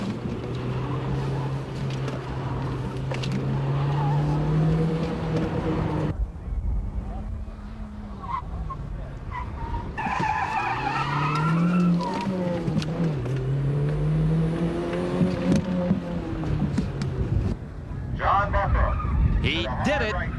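A Toyota Celica All-Trac races a timed course during the 1989 One Lap of America, its engine droning and revving up and down through shifts, loud and close, alongside other motor noise.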